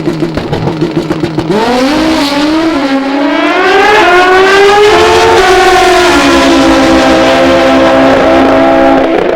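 A drag racing motorcycle, a Prostar drag bike, revs hard on the starter box. The engine note climbs and holds in a loud, steady, high-pitched scream, with harmonics sweeping up and down. There is no talk.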